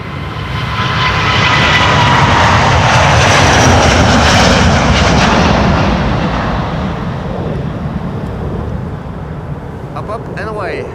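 A two-year-old Delta Airlines Airbus A320neo jet departs Amsterdam Schiphol, its engine roar loud and close, building to a broad peak then slowly fading as it climbs away.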